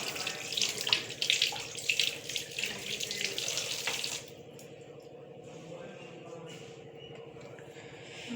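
Running tap water splashes into a sink while jamun fruit is washed, a steady gushing stream that cuts off midway and leaves a quieter drip and room hum.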